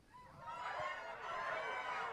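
A crowd of voices imitates birds together, a dense chirping, honking chatter that swells and stays loud and steady throughout.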